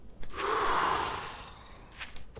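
A video game character in 7 Days to Die, tired from running, breathes heavily in one long drawn-out exhale, followed by a couple of short quick breaths near the end.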